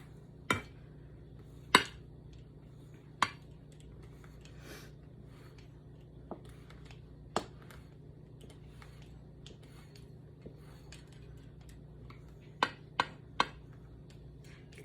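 A pizza cutter rolls through dumpling dough into strips, with sharp, sparse clicks and taps of the wheel on the board at irregular intervals over a quiet kitchen hum, mostly close and fairly soft.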